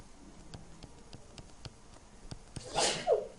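A sneeze bursts out near the end, following a stretch of faint ticking and clicking in a quiet classroom or lecture setting during a math lesson.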